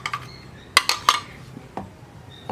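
A spoon clinks and scrapes against a pot while custard powder mix is stirred, a few sharp metallic taps and light scrapes, close and fairly quiet, with no talk.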